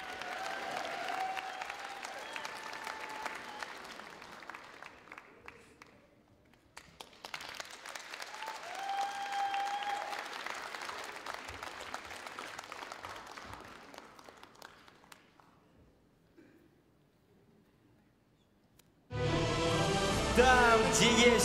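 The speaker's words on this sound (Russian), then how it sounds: "Ваши аплодисменты." Applause from a comedy contest audience, two long rounds of clapping that swell and fade with a quiet gap between them, then a sudden loud burst of music or crowd noise near the end.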